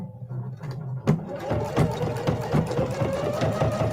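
A sewing machine fitted with a quarter-inch foot stitches a 1/4 inch seam on flange binding. After a quiet start it kicks in with a sharp onset and settles into a steady, rhythmic mechanical whir up close.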